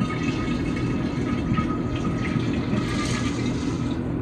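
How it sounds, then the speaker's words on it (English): Water pours steadily into a betta fish tank, a constant close rushing and splashing with no pauses and no voices. "I'm just filling the tank with a little bit of water."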